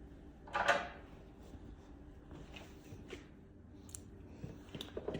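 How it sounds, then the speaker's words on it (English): Scissors cutting around the cardboard packaging of an unboxed Jo Ann 200 HDT, a quiet run of small scattered snips and clicks with one sharper crunch near the start, close by in a quiet room. "we're gonna take our scissors and we're just gonna cut"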